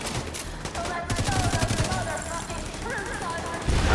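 Rapid gunfire in the video game The Division 2, with dense bursts of automatic shots and overlapping fusillades running continuously at close range, a louder burst near the end.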